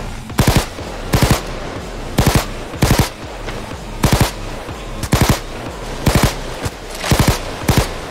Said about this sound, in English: Tommy gun time!